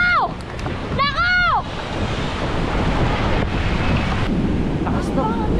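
Storm surge water floods seaside houses along the Bucana shoreline. Strong wind roars into the microphone over rushing waves, and shouting voices cut in near the start.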